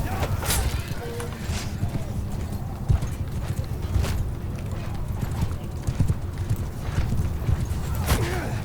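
Dense, continuous hoofbeats of many horses galloping, from a battle of about a hundred mounted horse archers in the strategy game In The Name Of Jerusalem II, steady and close with clashing noise and occasional whinnies mixed in.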